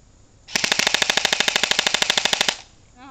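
An airsoft submachine gun fires one rapid full-auto burst of about two seconds. The sharp, evenly spaced reports come loud and close, with no talking over them.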